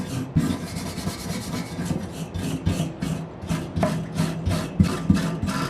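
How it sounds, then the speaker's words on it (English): Wire brush scuffing down a Corvette frame to strip foam rubber, dirt and loose rust, a steady run of rasping back-and-forth strokes, close and fairly loud, with no talking. "we're going to take a wire brush and scuff the frame down"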